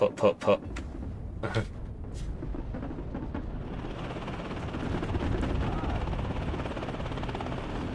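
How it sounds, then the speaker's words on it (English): An Apache attack helicopter's gun in the Warno video game: a few sharp bursts of firing at the start, then a loud, sustained rumbling roar that swells and holds. "It's a very nice gun, that. Makes a very interesting sound for a weapon of death."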